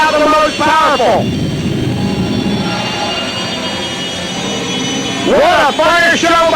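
The Green Mamba jet car's Westinghouse J60 jet engine, rated at 12,000 pounds of thrust, gives a loud, steady, broad roar that holds for several seconds, with a commentator talking at the start and end.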